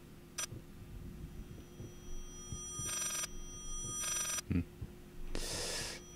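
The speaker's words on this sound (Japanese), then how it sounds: "電話鳴ってますよ。" An old telephone in the horror game Layers of Fear rings in several short bursts over a low, murky ambient drone, with breathy noises in between.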